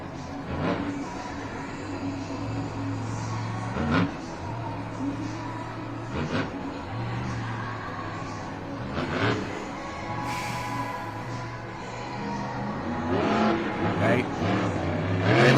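A Monster Jam monster truck makes its lap around the track at the World Finals, its engine droning and revving under a commentator's steady talk, with repeated sharp bangs and surges as it drives.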